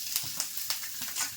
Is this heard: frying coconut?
yes